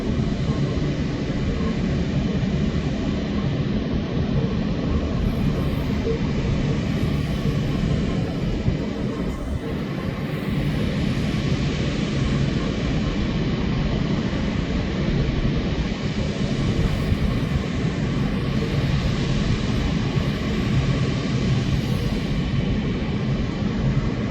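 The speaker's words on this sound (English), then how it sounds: "the propeller should turn on" A military airplane's propeller engine runs during pre-flight checks, a loud, continuous broadband roar that stays steady throughout without pause.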